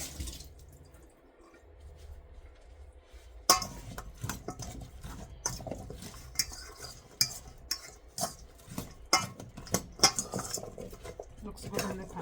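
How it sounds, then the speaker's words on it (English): Seasoned food for steamed fish being stirred in a pan with a utensil, close scraping and clinking knocks against the metal in an irregular rhythm, with a quiet pause before the stirring starts. "Alright, then I'm gonna give it a stir again."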